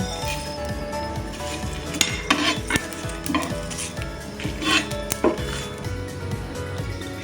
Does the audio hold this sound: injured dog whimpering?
no